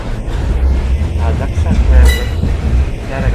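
Loud rumbling of a train arriving at a railway junction on the Dhoraji to Somnath route, with clanking and rattling, while a person talks over the noise.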